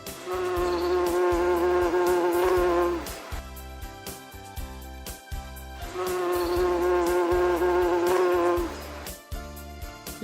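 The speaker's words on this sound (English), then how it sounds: "mosquito," Insect-like buzzing standing for a mosquito rises and holds in two long stretches over a steady, rhythmic music bed, loud and close, with no talk.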